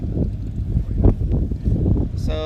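Aircraft engines rumble as planes arrive on runway 36 at the Oshkosh airshow, picked up by a laptop microphone as a low, wind-buffeted roar that swells and fades, with a brief whine at the end.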